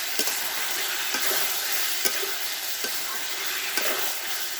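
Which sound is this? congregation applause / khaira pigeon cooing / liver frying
liver frying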